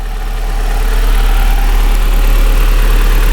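A 1990 Nissan 180SX Turbo, a Japanese import, idling up close: a loud, deep, steady engine drone with a slightly rough, pulsing low rumble and no talking.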